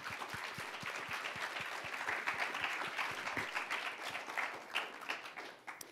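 A lunch audience in Los Angeles applauds to welcome speaker John Wilcox, a steady wash of many hands clapping, fairly distant and even throughout with no voices.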